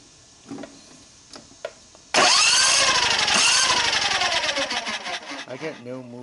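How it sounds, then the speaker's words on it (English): The electric starter cranks a Briggs and Stratton 27HP engine that has lost compression, its flywheel spinning free: a few faint knocks, then a sudden loud, steady whirring grind that holds for several seconds, wavers and tapers near the end. "The starter's turning the flywheel and it's just spinning free."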